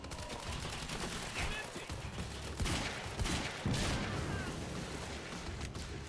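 Rapid bursts of gunfire in the video game Quantum Break, sustained automatic shots with heavier booms around the middle, fairly quiet in the mix with faint voices underneath.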